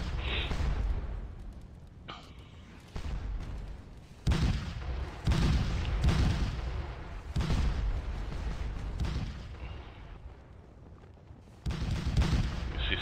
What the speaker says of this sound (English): You see some of our guns blasting away at this French cavalry that's hovering around by Hougomont